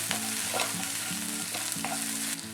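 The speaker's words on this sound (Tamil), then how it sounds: "இதில் இடித்த பூண்டு சேர்த்துக்கிறேன், அதுக்கப்புறம் கருவேப்பிலை. இதையும் வந்து ஒரு ஃபியூ செகண்ட் சாட்டே பண்ணிக்கிறேன்." Crushed garlic and curry leaves sautéing in hot oil in a pan, a close steady sizzle with light stirring scrapes throughout.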